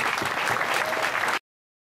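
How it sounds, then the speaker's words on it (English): An outdoor crowd at a town's 225th anniversary party breaks into dense, steady applause that cuts off abruptly after less than a second and a half. "if we could just have an applause for all of those present"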